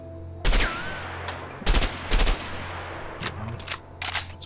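An M16 assault rifle fires on a video game practice range in a few sharp separate bursts, loud and close, with quieter shots in between.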